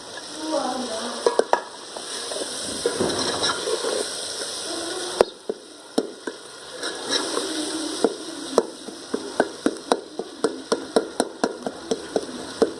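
Minced meat (keema) frying in masala for a matar keema dish, a steady close sizzle with repeated clinks and scrapes of a spoon stirring against the pan, growing sharper and more rhythmic toward the end.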